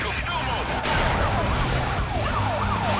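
A police SUV siren in the video game Need for Speed Most Wanted wails up and down in repeated sweeps over a steady engine and road roar, loud and close throughout.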